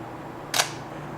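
A Minolta X-370 film camera fires its shutter on the self-timer: one crisp, brief mechanical click-clack, close and clear against a quiet room.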